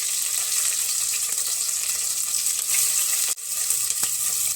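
Garlic and spices frying in hot oil for a vegetable pulao, a dense, loud and continuous sizzle close by with a brief dip near the end and no talking.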